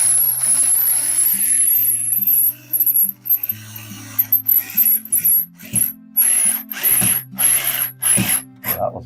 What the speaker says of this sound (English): putting flathead screws on these wall plates